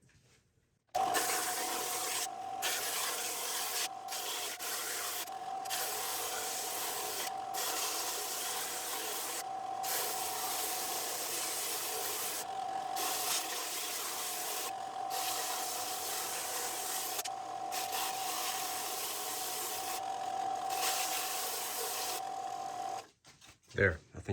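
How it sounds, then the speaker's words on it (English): A belt sander grinds steadily across a piece of softwood (pine, spruce or fir) veneer. The close, loud abrasive whir runs almost unbroken, with brief dips, then stops near the end. "now we got our belt sander. We're just going to take this piece and try to smooth it out a little bit."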